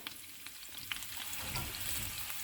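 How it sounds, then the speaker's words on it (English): Garlic, olive oil and seasoning heating in a pan sizzle with a steady hiss and a few small pops, close up and moderately quiet, with no voices. "the garlic, olive oil, and seasoning is heating up"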